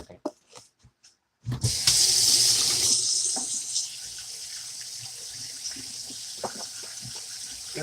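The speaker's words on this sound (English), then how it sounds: "Just gotta wash my hands real quick." Hands are washed under a running tap: after a few soft knocks and a short silence, water gushes loudly, then settles into a quieter steady flow with occasional splashes and handling sounds.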